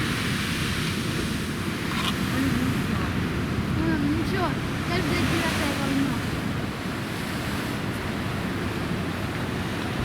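Storm waves crash and roar continuously on the shore, mixed with heavy wind buffeting the microphone in a loud, dense wash of surf noise.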